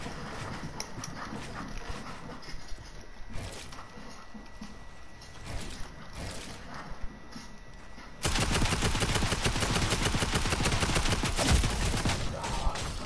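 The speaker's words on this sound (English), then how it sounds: "Gotta use a shotgun." Rapid gunfire in a video game, with scattered shots for the first eight seconds and then a loud, dense burst of continuous firing that fills the rest of the clip.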